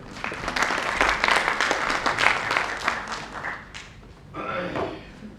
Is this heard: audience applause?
yes